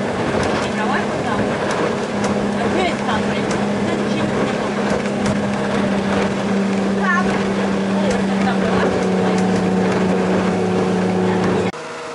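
Motorboat engine drones steadily while cruising to an island off Croatia's coast near Biograd na Moru. The close, continuous hum runs with water and wind noise for about twelve seconds, with occasional faint voices, then cuts off abruptly.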